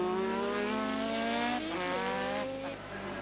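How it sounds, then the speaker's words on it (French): A 1985 Formula 1 car at Paul Ricard brakes very late and slides, its high engine note dropping through downshifts while tires squeal briefly, loud and steady without voices. "Freinage ultra tardif, glissade"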